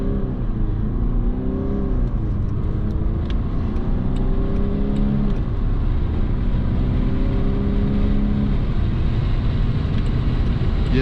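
A Jaguar XF facelift with a four-cylinder 204 hp diesel accelerates at full throttle, engine note climbing steadily through gear changes, loud and continuous with wind and road noise and no speech.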